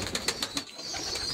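Native breed pigeons kept as pets coo softly in a short run of repeated, close pulses, with no voices over them.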